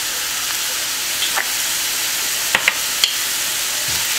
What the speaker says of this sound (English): Stir it up nicely.